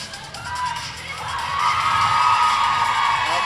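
A crowd at the 2023 ECC cheerleading championship cheers and whoops, a broad roar of voices that swells and stays loud through the stretch, with shouts mixed in.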